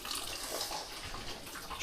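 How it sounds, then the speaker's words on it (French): Water runs from a tap into a bucket at a cottage on Malenge island, a steady close splashing rush that holds throughout without speech. "Bon, bah, je vais remplir le seau."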